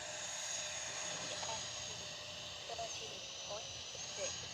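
An E-flite Viper 64mm electric ducted-fan RC jet makes a steady high whine and hiss as it passes down the runway at a distance, with faint background noise and a few brief voice bits.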